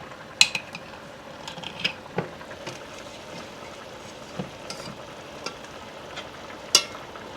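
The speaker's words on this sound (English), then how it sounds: "I'm going to use a little bit of my beef tallow here in my pan" Beef tallow heats in a pan, meant for searing thick chops. A soft, steady sizzle runs throughout, broken by scattered sharp pops and ticks, with no talking.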